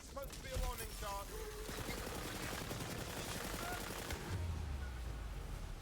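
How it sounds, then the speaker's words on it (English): Gunfire bursts from the fantasy shooter Tiny Tina's Wonderlands, rapid repeated shots mixed into busy game action and music, fairly loud and continuous throughout. "That was supposed to be a warning shot."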